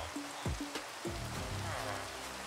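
Soft, steady patter of rain with a few low tonal sweeps and tones mixed in, fairly quiet and continuous, from the video game Minecraft.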